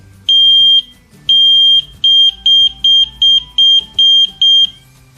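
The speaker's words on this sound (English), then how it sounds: "you try to produce 3 short beeps" An ELRO water detector sounds a loud electronic beeping alarm: two long tones, then a fast run of short, evenly spaced beeps, close and clear.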